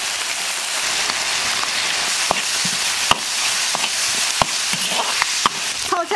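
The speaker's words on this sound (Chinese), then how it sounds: "锅里倒油，撒点料头，把肉末炒一下。" Minced pork stir-frying in hot oil in a wok crackles and spits continuously, with sharp clicks and pops from the spatula and fat scattered through the sizzle.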